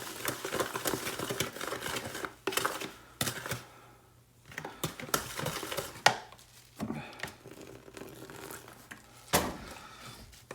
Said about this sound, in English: Gonna get it all stirred up.